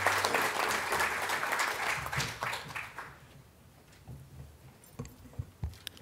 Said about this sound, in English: give a round of applause for our panelists